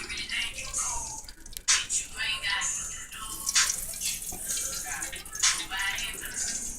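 Excess hot grease is poured from a pan of tilapia being cooked over flames, a close, uneven splashing and dripping pour with a voice talking over it.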